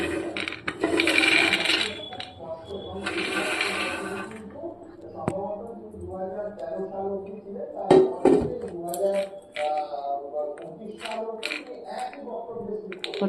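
Oil-free roasted peanuts tumble out of a hot air fryer basket in two quick clattering rattles near the start, then a softer scrape as they settle, with a person talking throughout.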